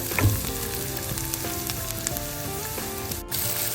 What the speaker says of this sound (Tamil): இப்போ வெங்காயம் நல்லா பொரிஞ்சு கொண்டு வந்துட்டுது